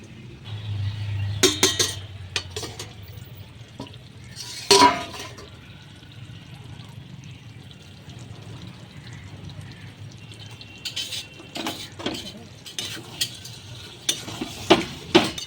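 Pointed gourd and prawns are stirred in a pan with a faint, low sizzle underneath, broken by scattered scraping and clattering strokes of the spoon that grow busier toward the end.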